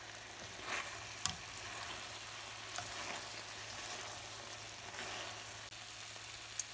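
Sweet and sour eggplant stir-fry sizzles quietly in a pan after a splash of water, with a faint steady frying hiss and occasional light stirring clicks, no voices.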